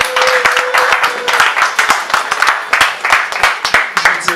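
Applause and clapping from a wedding congregation cheering for Jesus Christ, a dense, steady crowd of hands lasting throughout, fairly loud and close.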